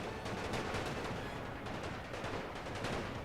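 Dense, continuous gunfire crackles across a The Great War battle, with many overlapping shots forming a steady barrage and no voices on top.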